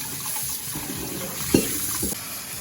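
Water runs steadily from a tap, with a few soft splashes and knocks as corned beef is rinsed beneath it.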